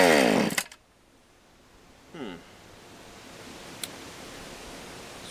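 A Stihl 020 AV chainsaw with a stalling fault revs up loudly for a moment and then cuts out. A short sputtering surge follows over quiet background hiss.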